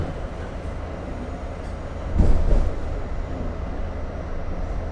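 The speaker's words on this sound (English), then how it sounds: "that seemed pretty short for the next train to come on the other side" A New York City subway train rolls into the opposite platform after flooding from Tropical Storm Ida, a steady rumble of cars and wheels with a brief louder surge midway, heard from the platform without talk.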